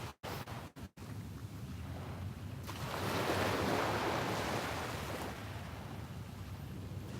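Ocean waves breaking at a beach, a broad steady surf wash that swells into a louder rolling crash midway, mixed with some wind rumble and a few clicks at the start, with no voices.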